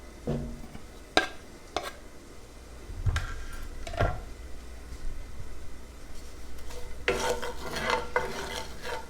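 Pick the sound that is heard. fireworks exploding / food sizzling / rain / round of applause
food sizzling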